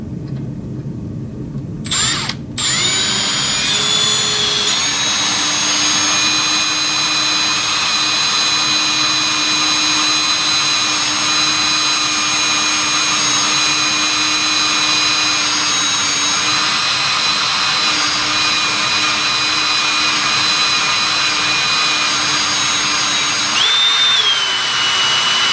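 An electric drill bores steadily through a piece of heat-treated, quenched steel, a loud continuous whine after a brief start, holding evenly for about twenty seconds before easing near the end.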